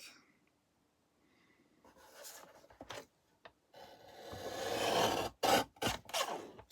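Paper or card cut to size for a handmade dark Alice-themed book folio, heard as quiet rasping, scraping strokes in irregular bursts, some longer and some short, with pauses between them.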